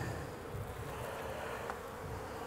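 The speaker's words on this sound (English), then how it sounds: "A lot of bees, so" A dense swarm of honey bees drones steadily up close during a hive removal, a continuous buzzing hum with no voices over it.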